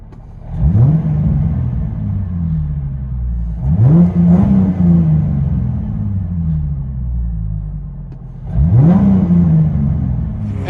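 A 2005 Ford Mustang 4.0L V6 with straight-pipe dual exhaust and a five-speed manual is revved hard three times, each loud rising roar falling back to a raspy, rumbling idle.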